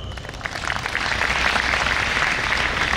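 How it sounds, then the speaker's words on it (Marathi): An audience applauds during a lecture on the Dnyaneshwari and modern life, with dense, steady clapping that builds slightly and holds at a loud, even level throughout. "आणि तो आता टाळ्या वाजवत आहे"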